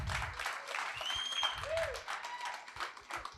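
An audience applauds as a speaker is welcomed onto the stage at a real estate team meeting, with steady clapping, a faint whistle and a few voices mixed in, carrying on at a fairly even level throughout.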